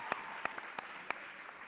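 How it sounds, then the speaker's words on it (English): A workshop audience claps steadily in a dense wash of applause, with a few sharper individual claps standing out. "You all deserve a nice, amazing round of applause."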